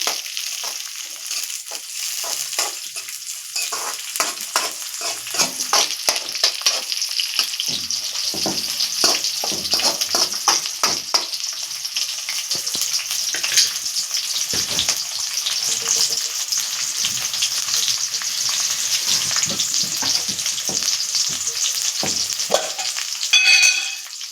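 Sliced green chillies fry in hot oil in a pan for chicken curry, with a loud continuous sizzle and repeated scraping stir strokes throughout, no voices.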